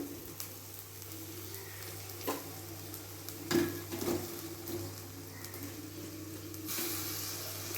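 Tomatoes fry in masala in a pan for palak pulav, a steady low sizzle with a few scraping stirs and soft spoon knocks against the pan, no voices.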